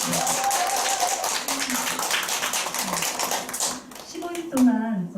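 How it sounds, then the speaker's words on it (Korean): Applause from an audience at a beauty club meetup, thanking the staff, a dense patter of hand claps running under voices and fading toward the end as talk resumes. "도와주신 여기 사장님들한테 다시 한번 박수 한번 보내드리겠습니다"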